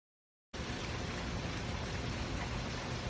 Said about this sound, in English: So I just noticed that we started having some rain here.